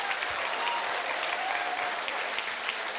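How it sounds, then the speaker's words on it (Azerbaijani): A quiz show audience claps steadily in tribute to Qarabağ football club, a continuous, even patter of many hands, moderately distant and without voices. "bu alqışlar bizim həmişə azarkeşlik etdiyimiz Qarabağ üçündür"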